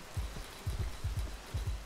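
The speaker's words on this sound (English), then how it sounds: "the rain effect is just wild in this game" Steady rain in the video game Rain World: Gourmand, a dense hiss with a series of low rhythmic thuds rolling underneath; no voices.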